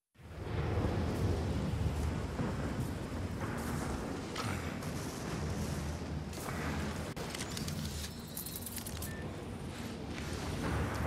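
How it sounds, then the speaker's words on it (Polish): Deep rumbling thunder of an approaching storm in the video game Outriders, a continuous loud low roar with rolling swells and scattered cracks, no talk over it. "Ale nadciąga wielka burza."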